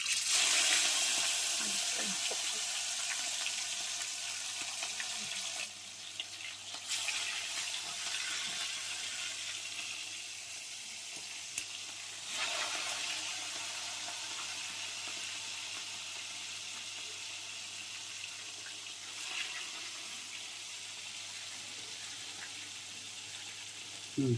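Raw fish frying in hot oil for a fish curry, a steady broadband sizzle that holds at an even level throughout, loud and close with brief dips and no talk.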